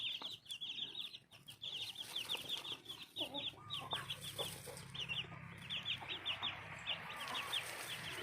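Free-ranging black chickens in Phetchabun give repeated short clucks and high peeping calls in a quick, uneven rhythm, close by with a soft outdoor hum beneath.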